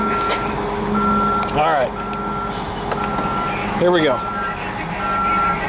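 Repeated warning beeps from a deployed wheelchair lift on a 1997 MCI 102-DL3 55-passenger coach bus, sounding at a steady rhythm over a low idling engine, with two bursts of air hiss and a brief spoken remark.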